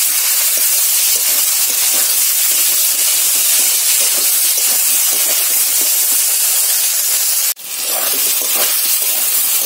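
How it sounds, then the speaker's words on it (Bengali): Vegetable curry is sautéed with turmeric powder in a hot pan, giving a loud, constant sizzling hiss that carries on almost without pause, broken only by one brief dip near the end. "হলুদের গুঁড়ো দিলাম, দিয়ে একটু কষিয়ে নিই তরকারিতে।"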